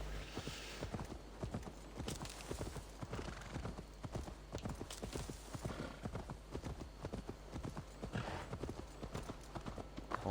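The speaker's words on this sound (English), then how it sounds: "I think it's time I use this horsey." A horse gallops in the video game Assassin's Creed Valhalla, with steady, rhythmic hoofbeats pounding close and clear throughout and occasional faint snorts.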